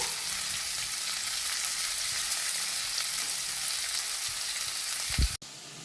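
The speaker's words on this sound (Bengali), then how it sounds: "পেঁয়াজ রসুনকে লাল লাল করে ভুজে নেব" Chopped onion and garlic frying in oil in a pan for a prawn masala curry, a steady close sizzle running throughout, ending in a brief clatter as the sound cuts off.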